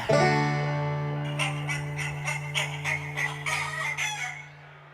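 A rooster crows loudly up close, followed by a burst of rhythmic clucking from several chickens.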